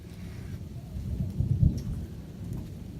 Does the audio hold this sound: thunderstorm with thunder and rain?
yes